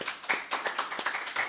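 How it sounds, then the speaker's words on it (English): Studio audience clapping for a guest on a live TV show, a close, uneven patter of hand claps with sharp individual slaps over about a second and a half, no talking. "big clap for him. Give him a clap."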